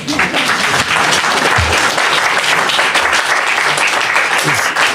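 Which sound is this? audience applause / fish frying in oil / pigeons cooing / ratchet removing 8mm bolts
audience applause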